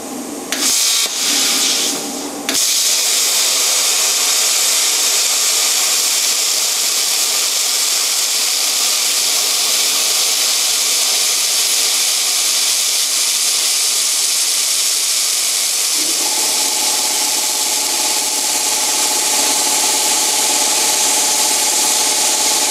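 A plasma cutter running on compressed air hisses steadily and loudly as it cuts metal, with a sharp burst at the start and a shift in tone partway through the cut, and no talking.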